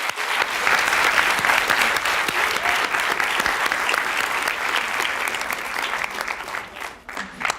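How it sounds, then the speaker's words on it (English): Sustained audience applause at the MIT $100K pitch competition, dense steady clapping from a crowd that fades out near the end. "So one last round of applause for them"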